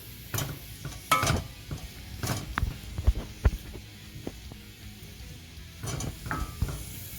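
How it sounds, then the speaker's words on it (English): Corned beef sizzling and being stirred in a big cast iron skillet, with a low steady fry beneath repeated scrapes, clinks and taps of a utensil against the pan, close and fairly quiet, no talk. "We're gonna go ahead and throw in our corned beef."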